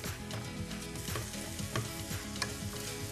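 A spiced mixture sizzles steadily as it is sautéed and stirred in a pan, with a dense continuous frying hiss and frequent light clinks and scrapes of the spoon close by.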